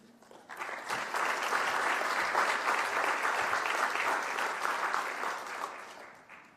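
Audience applause after a Cedar Rapids school bond presentation, swelling quickly into a steady wash of clapping that fades toward the end, moderately distant.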